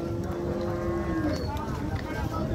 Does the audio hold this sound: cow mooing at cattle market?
yes